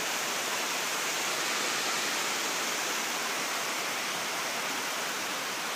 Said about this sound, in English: See the water rushing over there?